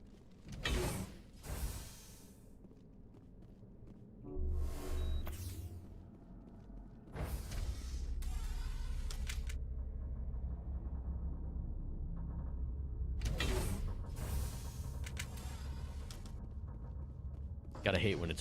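Elevator ride in the Mass Effect video game, a steady low mechanical hum and rumble running for most of the stretch, with creaks, whooshes and scattered clanks breaking in now and then.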